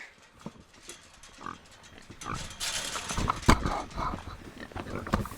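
Pigs on a farm snorting and grunting up close, with irregular bursts and shuffling that grow louder toward the end, along with brief bits of human voice.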